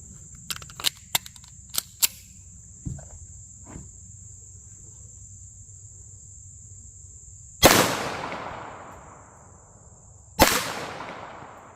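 Pistol shots from handgun calibers from .22lr to .45acp fired at concrete blocks outdoors: a few faint distant pops early on, then two loud, sharp close reports with long ringing decays, over a steady insect chirr.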